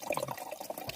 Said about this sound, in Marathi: हे बॉटल लावून असं हे पाणी भरायचं आहे